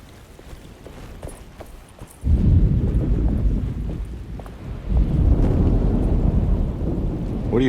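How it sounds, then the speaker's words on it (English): A thunderstorm rolls through a video game cutscene: steady rain hiss under wind, with a sudden deep roll of thunder that swells and lingers, then a second surge, loud and enveloping with no talking. "Just keeping an eye out for the storm."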